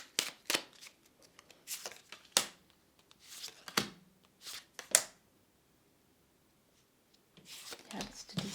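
Tarot cards are handled and shuffled in a pick-a-card reading, with bursts of soft riffling and slapping close by, a quiet pause, then more shuffling at the end.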